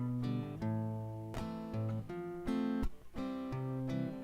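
An acoustic guitar plays the closing part of a verse from a song: a close, clear run of ringing chords and plucked notes, several changes in steady rhythm, with no voice.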